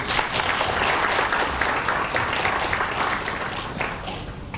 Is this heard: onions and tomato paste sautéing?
no